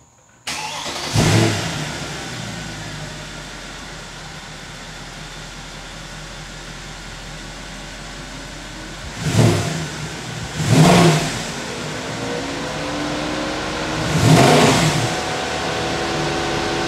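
A Mercedes E63 AMG engine, freshly fitted with a new camshaft adjuster, starts and idles steadily nearby, with three short revs blipping above the smooth hum and no rattle at startup.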